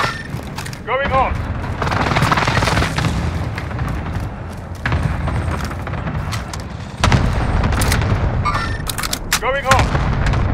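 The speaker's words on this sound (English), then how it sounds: "Allied cluster strike inbound." Heavy cluster strike explosions in a military video game boom and rumble in repeated bursts, loud and dense, with sharp gunfire cracks and radio chatter mixed in.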